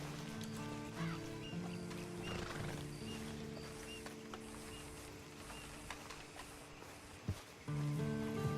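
A horse in the video game Red Dead Online snorts and whinnies with some hoof clip-clop over a steady game soundtrack of tones and music, moderately close, no talking.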